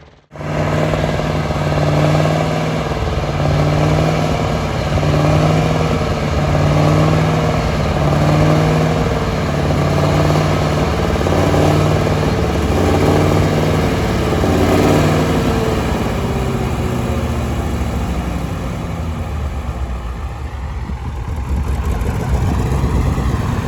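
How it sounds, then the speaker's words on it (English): A tractor engine with a faulty fuel pump and injector runs steadily up close, its uneven, sputtering drone rising and falling for the full stretch with no pause and no talk. "There's such a sputtery sound to it. Yeah, there's something wrong with this fuel pump and the injector."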